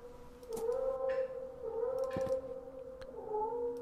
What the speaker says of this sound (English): Shush, cat.